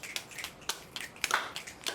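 A poetry slam audience snaps their fingers and claps in scattered, crisp bursts, a handful of sharp close pops spread unevenly over two seconds.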